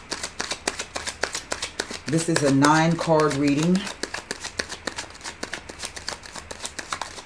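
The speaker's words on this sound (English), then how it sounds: "I'm going to do a bit more shuffling." Tarot cards are shuffled in a steady run of quick riffling flicks, close by, while a person speaks briefly partway through.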